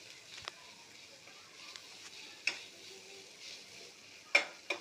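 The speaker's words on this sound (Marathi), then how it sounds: "कांदा टॅमॅटोमध्ये छान परतून घेऊया." Onion and tomato sautéed in a pan for a masala with boiled eggs and potatoes, a quiet sizzle under occasional sharp spoon taps and scrapes, close and without talk.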